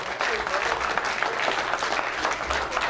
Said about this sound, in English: Y'all clap your hand, clap your hand